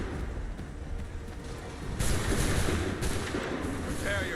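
Musket volleys in Assassin's Creed III crack out as broad, loud bursts at regular intervals over a continuous rumble of battle noise, with shouted voices mixed into the din.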